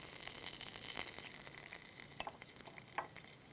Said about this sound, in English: So the anatosis I put inside the hot oil.